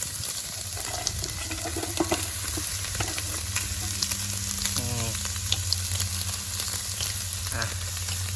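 Crab meat frying in a pan sizzles steadily up close, joined by scraping stirs and brief watery sounds, with a low background hum and no talking.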